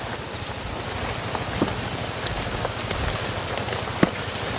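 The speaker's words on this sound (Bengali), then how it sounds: "লাগাতার বৃষ্টি, টানা বৃষ্টি।" Steady, continuous monsoon rain in a remote hilly region where landslides have uprooted large trees, a dense wash of rainfall with occasional louder drops and light wind, heard alone without voices.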